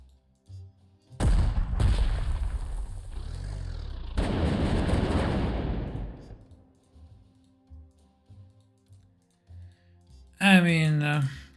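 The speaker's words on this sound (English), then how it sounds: "Shots." Gunfire rings out in the Panzer Corps 2 strategy game around the Smolensk battle, loud bursts of shots with brief gaps between them, followed by quieter clicks and a short burst of voice near the end.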